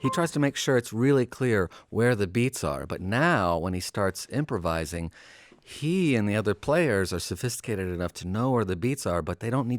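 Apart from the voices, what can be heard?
None of the usual background noises is heard.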